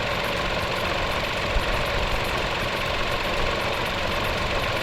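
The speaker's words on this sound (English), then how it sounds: "At times, the engine do sound like a diesel engine." Proton X50 three-cylinder engine running with a steady, gruff, diesel-like drone, continuous and even throughout with no talk.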